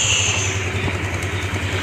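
A motorcycle engine idles as it warms up after a battery fix, giving a steady, close, low rhythmic putter that continues without a break and has no talking over it.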